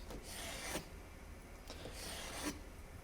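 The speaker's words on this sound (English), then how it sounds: "I'm going to cut it as follows. First in long strips" A sharp knife slices a block of tempeh into long, thin strips, giving two separate rasping strokes that sound close and fairly quiet, with no one speaking.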